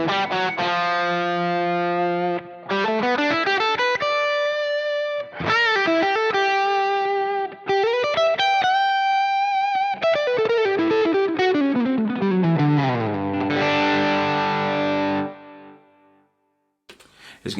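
Electric guitar lead tone from a Fractal FM9 with a BB preamp into a vibro-verb amp, played as sustained, bending distorted notes and slides with a little echo trailing behind, loud and alone until it cuts off near the end.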